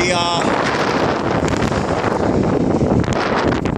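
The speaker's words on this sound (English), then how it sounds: "it's so windy" Heavy wind buffets the microphone with a constant roaring rumble throughout, drowning out everything else.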